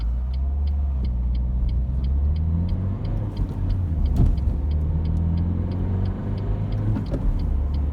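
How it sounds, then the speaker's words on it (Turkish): A Renault Clio 1.5 station wagon accelerates hard from a standstill in traffic, heard from inside the cabin as a loud, steady engine drone with a rumble and rising gear pulls throughout. "sıfır yüz testi yapacağız"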